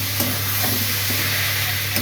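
Fried soybean chunks stirred with spices and oil in a pan, a steady soft sizzle with spatula scrapes at a few points across the short stretch.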